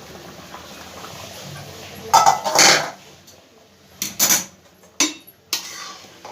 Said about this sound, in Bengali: এবার একবার ঢাকনাটা খুলে দেখব।